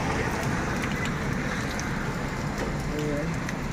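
Heavy rain pours steadily outdoors, a dense, constant hiss of downpour with no breaks across the whole stretch, fairly loud and close.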